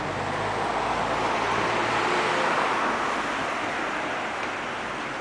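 Steady traffic roar at a bus stop on a Paris street, a broad continuous wash of passing vehicles and engine rumble, loud and unbroken, with no talking.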